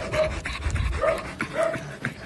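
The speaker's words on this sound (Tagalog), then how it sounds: "Kawawa ang itsura ng mga asong isinilid sa sako. Hingal na hingal at hirap huminga." Dogs stuffed into sacks pant heavily in quick, ragged breaths, close and loud, with faint whimpering tones breaking through every second or so; no speech is heard.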